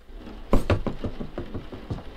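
Knocking on a door inside a video game: a loud double rap followed by a looser run of softer knocks, heard alone at close range with no talk over it.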